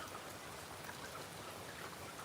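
Raindrops patter on trees and drip from the leaves in a dense, uniform hiss, close and steady, with no voices.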